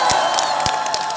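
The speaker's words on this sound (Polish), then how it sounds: "Wielkie brawa dla nich!" A concert crowd cheers and claps for a visiting Hungarian brass band, a dense wash of shouts and whoops with a few sharp claps standing out.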